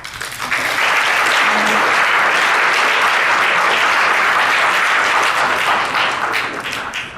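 An audience at an event on campus antisemitism breaks into loud, sustained applause that swells quickly and holds full and even for about seven seconds before easing slightly at the end.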